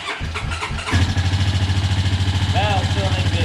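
A Honda Rancher 420 ATV, just rebuilt with a repaired snorkel and a fixed exhaust leak, cranks briefly and then catches. It settles into a loud, close, steady idle with a rhythmic low thrum, and voices are heard during the start.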